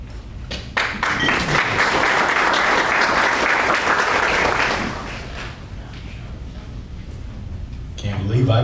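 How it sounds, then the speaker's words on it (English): Banquet audience applause, loud and dense, swelling for several seconds as a man walks up to speak, then thinning into scattered claps before a voice begins at the end. "Can't believe I got applause walking up here"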